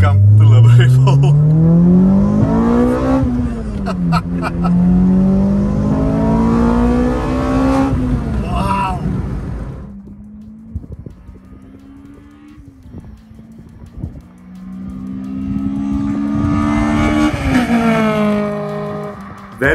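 A Toyota Runx RSi four-cylinder engine revs hard and loud at close range, its pitch climbing and falling in repeated sweeps, then settles into quieter, steadier revving with short blips.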